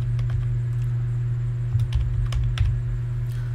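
Keystrokes tap on a computer keyboard in a short, uneven burst of typing, close and clear over a steady electrical hum, with no talking.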